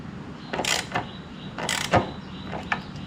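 Black screws are driven into a Givi tank lock ring on a 2026 Yamaha Tracer 9 GT, giving a few close, short ratcheting and creaking mechanical turns in bursts with brief pauses.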